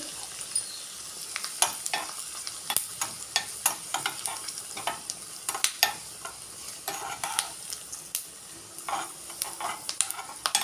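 Vadagam tempering crackles and splutters in hot oil in a pan for a vegetable sambar, a steady stream of close, sharp pops and sizzles with irregular bursts throughout, no talking.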